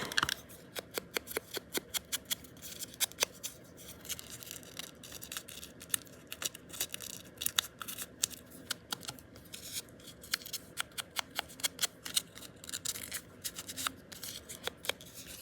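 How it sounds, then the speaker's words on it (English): Scissors snip and rough up the edges of paper trim for a file folder folio, giving a quick series of crisp, close cuts and scratchy rubs in irregular bursts, with no voice over them. "You can use scissors and rough up the edges."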